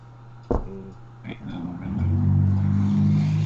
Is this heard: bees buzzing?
no